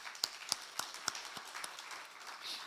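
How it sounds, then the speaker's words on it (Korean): Congregation clapping in a church during a Sunday evening service, a short scattered burst of hand claps with a few sharper individual claps, fairly quiet and distant in the room. "우리 필리핀 은혜 선교소에게 축복의 박수."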